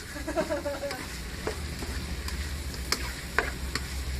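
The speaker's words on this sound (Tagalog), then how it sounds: "You have to saute the chicken very well so that you'll get well" Chicken sautéing in a pan, a steady frying sizzle with occasional stirring scrapes and clicks, close and moderately loud, no voices.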